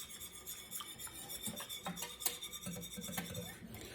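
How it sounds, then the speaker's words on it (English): A whisk scraping and clinking quietly against a pot or pan while stirring pumpkin into sugar-free syrup, soft rhythmic rasping strokes with small metallic ticks, close but faint. "I'm gonna get a whisk and just whisk that pumpkin in."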